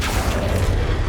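An Accio summoning charm cast in Hogwarts Legacy, heard as a brief rumbling magical pulse with a soft whooshing texture over low game ambience, lasting about a second with no speech.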